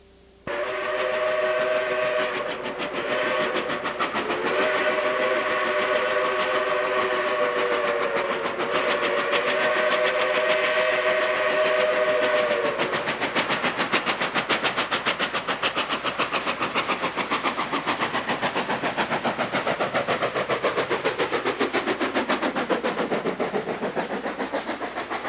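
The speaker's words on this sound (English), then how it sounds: "the locomotive is passing through a forest of trees with beautiful leaves" A steam locomotive passes through a forest with its whistle sounding long and loud at first, then giving way to a steady rolling rumble and clatter of wheels on rails as it goes by.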